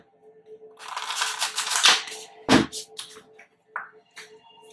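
Tarot cards being shuffled during a full moon reading, several quick papery riffles and snaps, close and fairly loud, in short bursts separated by near silence.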